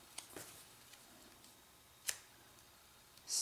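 Paper snipped with scissors while making a holiday gift tag: a few faint, sharp cuts spaced apart, with one crisp snip standing out against a quiet room.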